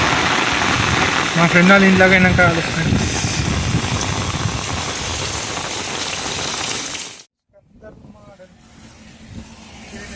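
Heavy monsoon rain hisses steadily over a street with passing car engine noise, while people talk over it; the roar cuts out abruptly near the end and resumes more faintly.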